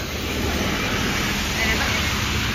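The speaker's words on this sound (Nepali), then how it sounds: "अहिले त ओहिरो पर्दैछ पानी।" Dense, steady roar of heavy rain falling, a continuous broadband wash with no breaks.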